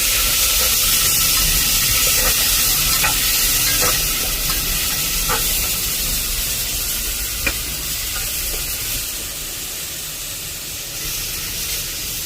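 Tomato, cinnamon and cloves sizzle in a hot pan while a spoon stirs them. A steady close frying hiss runs throughout, broken by irregular scraping clinks of the stirring, with no voices.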